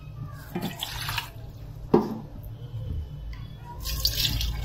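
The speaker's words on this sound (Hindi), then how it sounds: "हम इसमें और पानी डालेंगे" Water poured into a cooking pot of rice and masala for vegetable biryani, a soft splashing trickle in short bursts, faint and close, with a brief clatter partway through.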